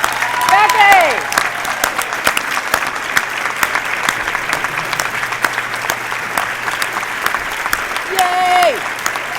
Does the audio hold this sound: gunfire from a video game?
no